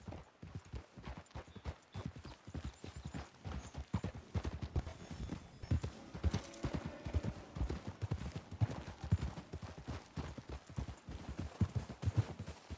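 Steady clip-clop of horse hooves trotting at a brisk, even rhythm in Red Dead Redemption 2, close and continuous, with faint clinks and rustles alongside.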